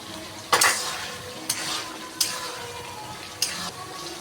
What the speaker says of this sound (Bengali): আলু দিয়ে কষাবো।